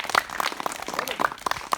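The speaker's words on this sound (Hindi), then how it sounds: "वेरी गुड, ताली बजाने के लिए" Children clapping together at a village school session in Azamgarh, a quick, uneven patter of many small hands, close and moderately loud over a short burst, with no talk.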